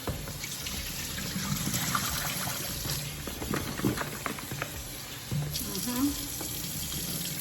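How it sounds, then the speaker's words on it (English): Cow foot is rinsed under a running kitchen tap, with a constant stream of water splashing and gurgling close by as the meat is turned and washed. "I'm just going to rinse it off now and prepare it."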